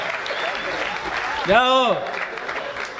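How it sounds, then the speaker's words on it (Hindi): Audience at a Hindi comedy poetry gathering clapping steadily, while someone speaks over the applause and breaks into a short drawn-out vocal exclamation midway. "थोड़ा तालियों का और उत्सव करिए"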